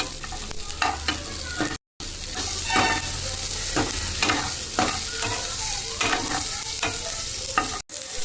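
Onions with green chili and garlic are sautéed in a pan over a low flame: a loud, close sizzle with repeated stirring scrapes and two brief silent breaks.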